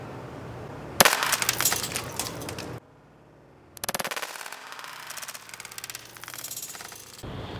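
S Thunder airsoft grenade shell firing BBs from a short launcher: a sharp pop opens a dense rattling burst of pellets for about two seconds, then after a gap a second crackling, clattering volley follows, loud and close.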